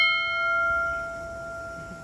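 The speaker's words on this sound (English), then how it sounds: "So I rang that bell, one for me and one for you." A bell struck at Nagasaki Airport gives a bright, ringing strike with sustained tones that slowly fade over a soft background hum of the terminal.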